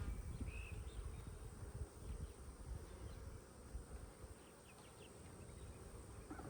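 Honeybees hum around beehive frames during a Demaree split on a farm, a steady low buzzing swarm close by that fills the whole stretch with no talking.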